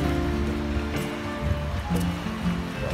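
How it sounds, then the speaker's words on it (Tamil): Sea waves on a beach in Kuwait City give a continuous, fairly loud wash of surf with gentle swells and no talk over it. "எப்படி அலை அடிக்குது பாருங்க"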